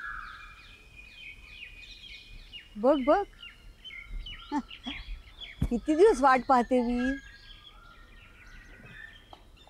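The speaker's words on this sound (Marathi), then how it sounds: "हो कोकिळाच आहे." An Asian koel calls in short rising whistled phrases outdoors, fairly close and clear, with other birds chirping and someone speaking over part of it.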